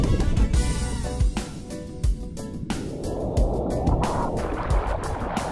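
Ocean surf at a surf break, with waves stacking up and closing out quickly, heard as steady broadband wash and rumble with a few louder crashes, plus wind buffeting the microphone throughout.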